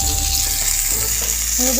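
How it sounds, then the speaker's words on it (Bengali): Fish frying in hot oil under strong outdoor sun, a loud continuous sizzle with oil spitting and crackling throughout, no voices. "ও এই দেখো মাছ ভাজা হয়ে গেছে দেখেছো এই দেখো আওয়াজ হচ্ছে তেল ছিটছে দেখো"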